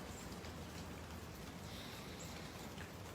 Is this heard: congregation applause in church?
no